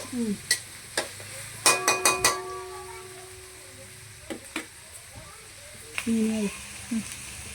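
Food sizzles and fries in a pan while a utensil stirs it, with several sharp scraping strokes and clinks close by, and brief bits of voice between.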